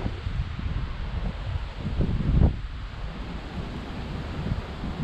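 Steady wind blowing across open water on a bass fishing outing, a continuous rumbling rush with a brief gust, no voices.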